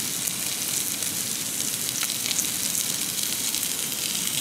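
Eye fillet steak sizzling steadily in a hot pan, a continuous close hiss and crackle with faint pops, no talking.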